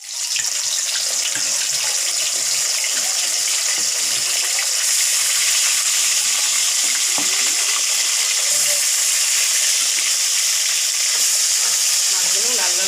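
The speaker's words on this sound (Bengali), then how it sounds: "মাছগুলো লাল লাল করে ভেজে নেব" Rohu fish pieces frying in hot oil in a wok, a loud continuous sizzle and crackle close by, growing slightly stronger partway through, with no talk.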